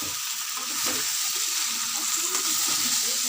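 Spices, raw jackfruit and potato sautéing in oil in a pan, giving a continuous soft sizzle with occasional scraping and stirring knocks, moderately close, with no talking.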